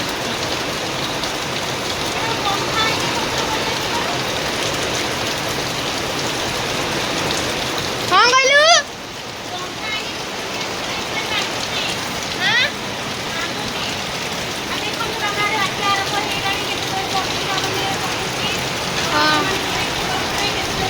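Steady, loud rain falls outdoors in Odisha ahead of a cyclone, a dense continuous wash close by. A short louder burst with a rising whistle-like squeal cuts in briefly partway through.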